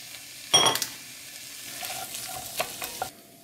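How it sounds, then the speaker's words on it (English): Peppers tossed into a hot pan with chicken of the woods mushroom and cumin sizzle sharply as they land, then fry with quieter stirring and scraping strokes, close and alone. "I'm going to add the peppers in now."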